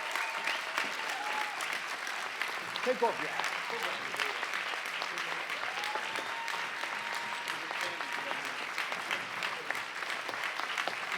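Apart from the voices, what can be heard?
conference audience applause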